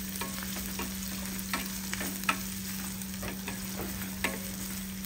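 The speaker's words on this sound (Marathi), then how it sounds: "त्यामध्ये आपण हिरवी मिरची टाकूया आणि हे सर्व छान परतून घेऊया।" Chopped onion and green chillies sauté in a pan with a steady, soft frying hiss. Occasional light scrapes of stirring come through over a constant low hum, with no voices.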